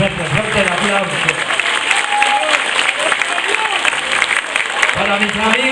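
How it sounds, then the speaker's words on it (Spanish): Audience applause fills a folk music show of the Litoral region in Artigas, steady and dense clapping throughout, with crowd voices and some vocal sounds mixed in. "fuerte el aplauso."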